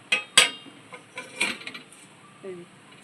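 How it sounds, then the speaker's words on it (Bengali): A metal plate is set as a lid over a cooking pot of pulao, giving a few sharp clinks and clatters of crockery close by, followed by quieter knocks and a faint voice. "থালা দিয়ে আমি ভালো করে ঢেকে রেখে দিলাম"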